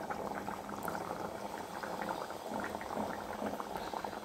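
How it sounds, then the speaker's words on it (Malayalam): Kerala pandalam-style sardine curry made with ground coconut boils gently in a pot, with a constant close bubbling simmer and no talk. "തിളയ്ക്കണ്ട, ചെറുതായിട്ടൊന്ന് തിളച്ചാൽ മതി"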